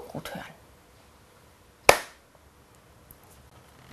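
A single sharp hand clap, close and crisp, sounds on its own in a near-silent room during a syllable-clapping game in a school-readiness test. A faint softer sound comes just before it.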